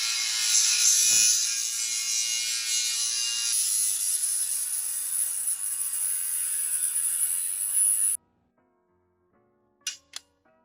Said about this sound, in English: So I'm gonna go out and cut it with a grinder.